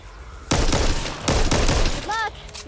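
Gunfire in the zombie shooter Back 4 Blood: two dense, loud bursts of rapid close-range shots, including shotgun blasts, crackle back to back, with a brief lull between them.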